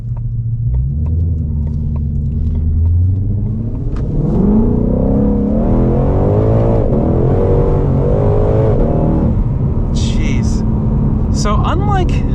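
A Mustang Shelby GT500 engine accelerates with a steady, loud rising rumble and whine. Tonal sweeps climb through the middle of the clip, and a few sharp high chirps come near the end.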